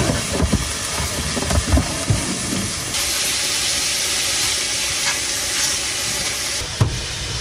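Onions fry in a pan inside a small van, giving a loud, steady hissing sizzle that runs throughout, with a few clanks from stirring near the start and again near the end.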